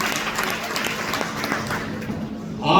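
Seminar audience applauding, a dense wash of clapping hands that fills the room steadily and then swells louder toward the end, with faint voices mixed in.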